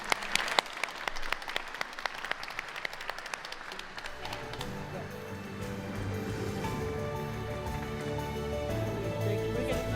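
An audience at the Dania Beach State of the City event claps with scattered, distinct claps at first, then swells into fuller, continuous applause that runs to the end.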